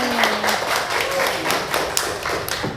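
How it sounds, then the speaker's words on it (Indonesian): A class gives itself a round of applause at the close of a teaching session, close and uneven hand claps and taps filling the room for a few seconds, with faint voices underneath. "Tepuk tangan untuk kita semua hari ini."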